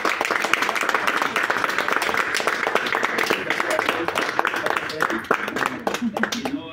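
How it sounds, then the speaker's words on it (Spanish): Worshippers applaud the image of the Lord being carried in a religious procession, a continuous, dense round of clapping with voices mixed in throughout. "le recibimos con un fuerte voto de aplauso al Señor"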